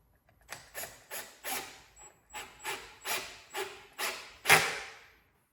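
Cordless drill driving screws into MDF closet shelving, clutch set low, in nine short separate bursts, each a brief whirring bite with a dull knock, the last one loudest, close up in a quiet room.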